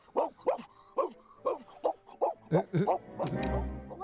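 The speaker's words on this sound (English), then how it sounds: "There's the dog." Barks and yips from a dog in a video game, about nine short sharp calls in an irregular series, fairly close and clear, with a low rumble entering near the end.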